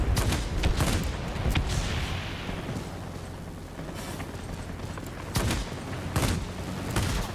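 Cannons on a Corsair fighter fire in World of Warplanes as a loud, dense stream of rapid bursts. The blasts swell and ease over a continuous rumble of engines and combat.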